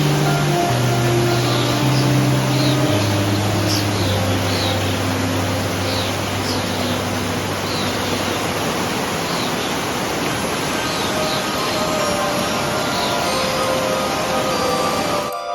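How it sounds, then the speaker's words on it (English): Steady, dense roar of a waterfall heard up close beside a forest in Dalarna, Sweden, a constant rushing wash of water with faint bird chirps above it and no voices. "Now we are standing just beside the waterfall."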